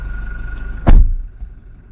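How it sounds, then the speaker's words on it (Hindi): A Toyota Innova's door is shut once with a single solid thud midway through, followed by a brief fading rumble inside the car and no talking. "दरवाजा खुला है, हमको लग रहा है। बंद करिए उसको।"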